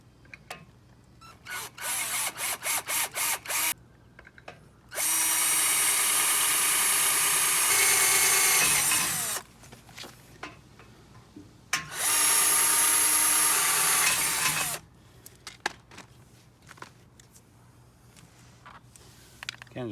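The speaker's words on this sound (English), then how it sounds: "now I'm going to drill some holes so that I can mount this on the trailer" A power drill bores holes into a boat trailer frame in two long, loud, steady bursts, separated and preceded by short trigger blips and clanks, with no talking.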